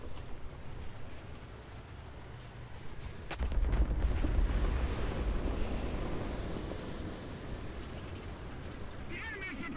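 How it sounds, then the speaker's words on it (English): An enemy artillery barrage in the War Thunder tank game, on a Sinai sand map: a heavy blast booms out mid-clip and gives way to a long, rolling low rumble over steady battlefield noise. "The enemy is preparing to barrage our square."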